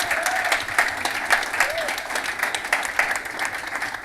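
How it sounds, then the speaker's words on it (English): An audience applauds in a hall during a storytelling event, a dense run of many hands clapping at moderate volume that holds steady, with a voice briefly heard over it. "Round of applause for him."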